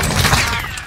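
Video game gunfire, a brief loud burst of rapid shots crackling close and continuous for under a second with no talk over it.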